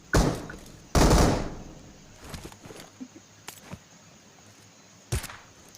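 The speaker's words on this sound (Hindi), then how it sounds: "तो चलो फिर हेडशॉट मारते हैं इस बॉट को" Gunfire from the BGMI battle royale video game as a player shoots a bot: two loud, close bursts in the first second and a half, then scattered softer shots and clicks, with one more sharp shot near the end.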